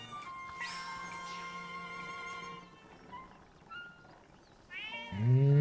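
A cat meows in the Zelda: Echoes of Wisdom video game, several melodic meows in sequence, quiet at first, followed by a louder whinny-like game sound at the end.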